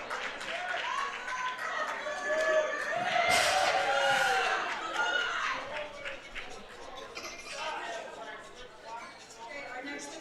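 A crowd at a Canadian weightlifting meet applauds and cheers as lifter Kessler Thomas comes up, with clapping building to a loud peak and then tapering off, while an announcer's voice talks over it.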